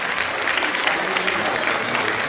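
Parents applauding at a play-school annual function, a brief burst of dense, even clapping from many hands, close and fairly loud throughout.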